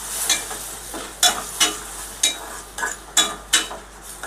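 A spoon scrapes and stirs kundri (ivy gourd) chutney in a pan over low-medium heat. About eight sharp, clattering strokes come at uneven intervals over a soft background sizzle, with no voices.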